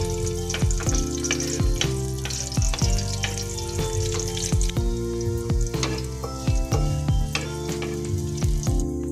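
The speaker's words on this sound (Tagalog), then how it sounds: "magigisa na tayo ng bawang" Garlic sautéing in hot oil for chicken caldereta, a dense crackling sizzle with rapid pops and frequent stirring clatter against the pan, close and continuous, without speech.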